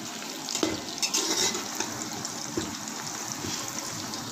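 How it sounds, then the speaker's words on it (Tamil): Onions sauté in a pan for biryani, a soft continuous sizzle close by, punctuated by a few light scrapes and taps of a spoon stirring against the pan. "வெங்காயம் வந்து நல்லா வதக்கிடுங்க"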